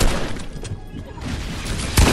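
Dense, loud gunfire in a FaZe Sway console BFC video game match, a continuous rattle of shots with a heavier blast at the end, close and steady throughout.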